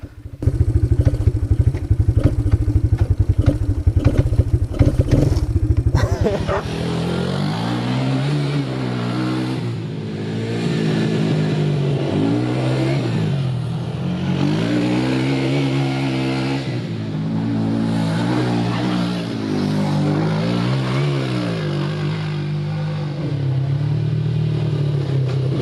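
A Suzuki LT 250 4x4 quad's engine revs hard and loud as it is driven, with a dense clattering start, then a sustained rising and falling drone with repeated throttle swells throughout.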